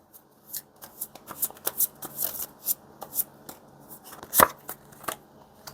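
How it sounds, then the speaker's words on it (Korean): Tarot cards being shuffled and drawn by hand at close range, a quiet run of soft riffling flicks and taps with one sharper slap near the end, no speech. "마지막으로 조언 카드 한 장 뽑아 볼게요"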